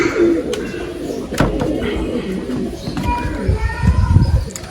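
Teddy and Haifa pigeons coo close by in soft, low, repeated calls, with sharp clicks and a little background noise mixed in.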